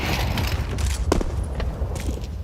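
Counter-Strike gunfire during a professional ESL Pro League match: a dense, rapid burst of shots with sharp cracks standing out around the middle, heavy low rumble throughout and no voices.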